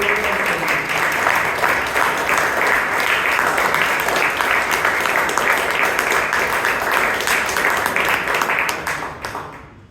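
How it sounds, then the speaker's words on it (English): A Toastmasters club meeting audience applauds the Toastmaster of the day with loud, dense, continuous clapping from many people that holds steady for several seconds before tapering off quickly at the end. "let's give a big round of applause for our Toastmaster of the day"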